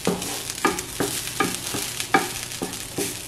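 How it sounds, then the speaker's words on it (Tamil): Grated coconut dry-roasting in a pan for a Sri Lankan crab curry, with a spoon scraping and stirring it in regular strokes over a soft, steady crackle. The sound is close, and no one speaks. "மிக்ஸ் பண்ணி லைட்லி கோல்டன் ப்ரௌன் ஆகிற வரையும் வறுத்தெடுப்போம்."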